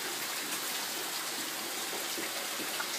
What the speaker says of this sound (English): You can see the little waterfall right down there.